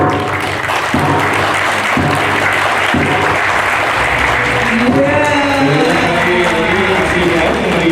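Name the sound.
congress audience applauding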